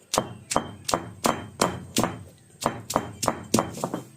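Black peppercorns and three garlic cloves pounded with a pestle, about a dozen sharp, evenly spaced thuds in a brisk rhythm, close and loud with no talk.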